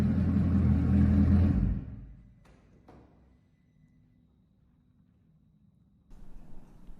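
A Bugatti supercar's engine rumbles loud and deep for under two seconds, then cuts off sharply, leaving a faint low hum with a couple of soft taps before a brief rise near the end.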